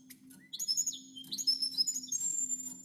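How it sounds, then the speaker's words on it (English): A cordon bleu finch sings during its hopping courtship display: a run of bright, rising chirps and short warbled phrases, close and clear over a low steady hum in the room. "So here's his little courtship display. He hops, he sings."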